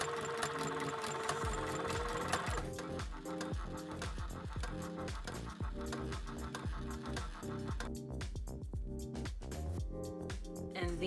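A sewing machine stitches a dart in a harness, running in a steady, rapid mechanical rhythm of repeated needle strokes with a humming motor throughout.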